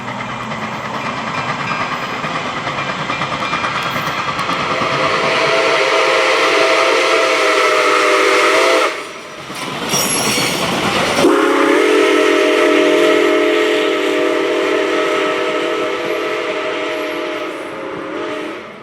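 Nickel Plate Road 765 steam locomotive rolls along the Cuyahoga Valley Scenic Railroad in northeast Ohio on a fall trip, a loud steady rumble joined by long sustained whistle blasts with a short break midway.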